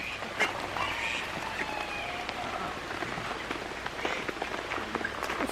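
A duck in a rain-soaked garden gives faint, scattered quacks over a steady, soft patter of falling rain.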